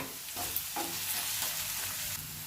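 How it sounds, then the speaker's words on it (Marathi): Onion and garlic sizzle as they are sautéed in a pan, a dense continuous frying hiss with soft periodic scrapes from stirring, close and fairly even in loudness. "कांदा आणि लसूण थोडं परतून झाल्यावर"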